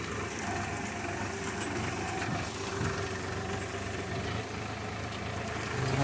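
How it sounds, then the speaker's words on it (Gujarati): Tractor driving fast along a farm track, a continuous rough engine rumble with vibration, steady and fairly close, no talk. "ધનાધન જાય છે ટ્રેક્ટર, પૂરા કાઢી નાખે એમ હાલે."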